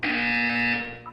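A loud, sustained electronic buzzer from the video game Portal 2 blares steadily for about a second, then tails off into a couple of brief fainter tones.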